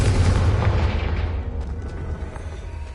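A Confringo fire spell bursts in the Hogwarts Legacy video game: a loud, rumbling explosive boom that starts heavy and slowly fades over a few seconds, with no voices.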